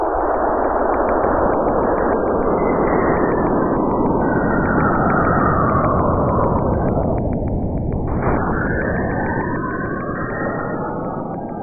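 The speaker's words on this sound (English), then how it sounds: "what you're hearing is an audio sonification of its electromagnetic waves as the Cassini spacecraft travels over its poles" Sonification of Saturn's electromagnetic waves recorded by the Cassini spacecraft over the planet's polar regions. It is a dense, continuous roaring wash with swooping, whistling tones that glide up and down, loud and steady throughout.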